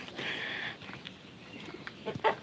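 A young pigeon chirps and squeaks in short, faint bursts close by, with some soft rustling between calls and no speech.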